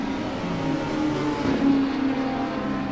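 A touring race car at Road Atlanta drones with a steady engine note as it runs with its tires off into the grass, the motor pitch rising briefly midway, moderately loud and without talk.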